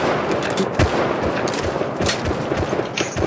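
Rapid gunfire in a squad-based shooter video game, dense overlapping bursts of shots that sound close and loud for the whole stretch.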